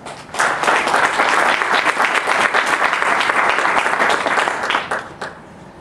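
Audience applause for Delegate Lopez at a Housing Day session of the Virginia General Assembly: dense, steady clapping from a sizeable crowd, loud and sustained for about five seconds before tapering off.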